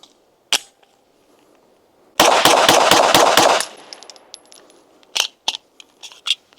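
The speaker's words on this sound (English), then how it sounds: "Want to put a few rounds through it and just kind of show you how jumpy it is" A Canik TTI Combat SFX pistol fires a rapid string of about seven sharp shots in quick succession, loud and close, with a single shot before and a few scattered reports and clinks after.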